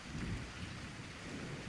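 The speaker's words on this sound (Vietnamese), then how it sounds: "Đang nằm trằn trọc lắng tai nghe tiếng mưa rả rích" Steady rain falls through the night, a dense soft patter with a low rumble beneath, continuous and even, used as an atmospheric effect in a ghost story.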